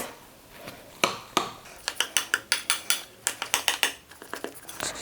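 A utensil stirring salt and sugar into yeast dough in a bowl, clinking and scraping against the bowl in quick, rhythmic taps after a couple of slower strokes, close and clear with no talk.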